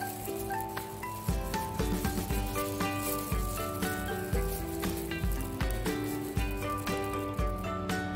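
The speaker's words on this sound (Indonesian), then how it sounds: "Ini udah dibaluri merata udangnya, kita goreng." Flour-coated shrimp sizzling steadily in hot oil for udang goreng tepung, a dense continuous crackle and spatter close up, with background music running underneath throughout.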